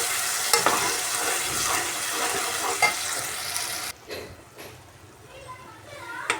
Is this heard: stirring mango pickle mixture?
yes